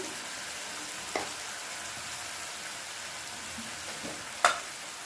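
Spices fry in oil for a yogurt chicken curry, a steady soft sizzle throughout with two distinct scraping clinks of a spoon against the pan.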